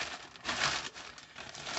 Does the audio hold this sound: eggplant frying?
no